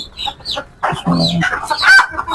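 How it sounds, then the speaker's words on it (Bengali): Desi hens cluck and a white rooster calls amid farmyard noise, the clucking continuous and fairly close with overlapping bird calls. "খুবই সুন্দর সাদা মোরগ এবং মুরগির"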